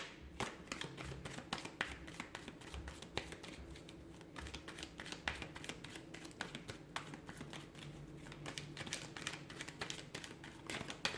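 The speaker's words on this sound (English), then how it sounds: "give the cards a shuffle, and let's begin" Cards being shuffled repeatedly, a quick flurry of soft riffling clicks, close and quiet with no talking.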